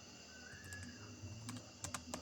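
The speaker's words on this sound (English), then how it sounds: "I'm typing with one hand." Someone types one-handed on a keyboard, a few faint, scattered key clicks over a low background hum, with a couple of sharper taps near the end.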